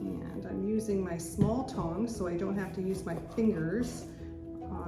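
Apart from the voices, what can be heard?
No everyday noises stand out.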